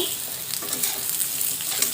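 Pointed gourd (potol) slices fry in hot oil with a steady, crackling sizzle, close and even throughout, with no talking.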